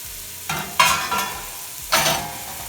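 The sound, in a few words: carrots and celery sweating in oil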